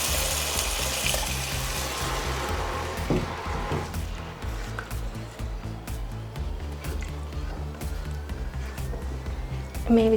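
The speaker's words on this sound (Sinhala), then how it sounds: "මේ විදිහට වතුර එකතු කර ගන්න ඕන." Water poured into rice being mixed in a pot for homemade tandoori chicken biryani, a steady running gush that continues throughout with faint background music.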